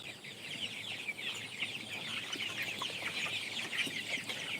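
A busy chorus of chickens clucking on a poultry farm, a continuous dense layer of overlapping calls at steady loudness, with no voices.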